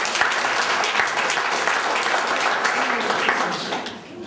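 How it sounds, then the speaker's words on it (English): A room of guests applauds at a 100th birthday party, a dense burst of clapping that holds steady, then fades out toward the end. "She deserves a pound of applause for that."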